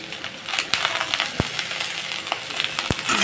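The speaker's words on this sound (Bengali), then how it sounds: "ধনেপাতাটা দিয়েও ভালোভাবে নেড়ে চেড়ে নিচ্ছি" Egg and coriander leaves are stirred in a hot frying pan, giving a soft, continuous sizzle with a few sharp scrapes and clicks of the spoon against the pan.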